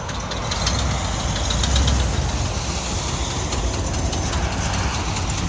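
A 1962 Cadillac Coupe Deville V8 with true dual exhaust, glass pack mufflers and a manifold leak idles nearby, a steady loud low rumble with a faint ticking patter running through it, no talk.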